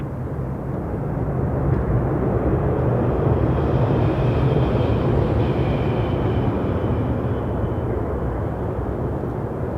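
An Air Canada airliner takes off from Toronto Pearson, a continuous loud roar of jet engines with a broad low rumble that holds steady throughout, heard from a distance with no voices.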